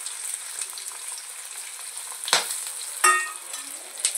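Onion, chili and garlic fry in hot oil, a steady soft sizzle with a few sharper hisses and crackles as the pan is stirred, close and moderately quiet.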